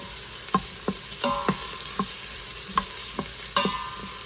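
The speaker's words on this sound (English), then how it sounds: "You're only going to cook your onion to about the clear, the translucent stage" Chopped onion sizzles steadily in an Instant Pot, with a spoon stirring through it and knocking against the pot in a series of sharp, spaced taps, close and clear.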